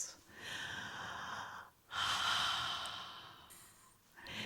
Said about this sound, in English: Do you hear me breathing?